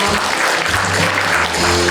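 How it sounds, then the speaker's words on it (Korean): Steady, dense audience applause fills a Korean award ceremony for Tuberculosis Prevention Day as a presidential commendation is presented, the clapping loud and continuous from start to finish. "큰 박수로 축하해주세요."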